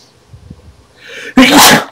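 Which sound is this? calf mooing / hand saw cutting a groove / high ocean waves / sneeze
sneeze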